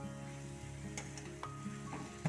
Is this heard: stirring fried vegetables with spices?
yes